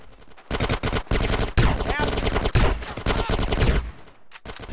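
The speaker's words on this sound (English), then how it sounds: "Get some suppressing fire in there." Rapid, loud suppressing gunfire in GTA San Andreas, during the mission Operation Sweet, rattles in dense bursts of automatic shots, close and dominant, with a short pause before a final few shots.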